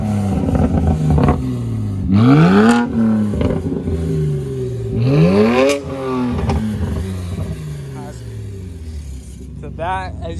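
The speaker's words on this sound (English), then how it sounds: "Mine's secondary catless downpipes, muffler delete. And now he's gonna give it a few revs." A BMW 335i with catless downpipes and a muffler delete idles with a deep rumble, then revs sharply twice with rising roars and crackling falls, followed by a quieter blip near the end.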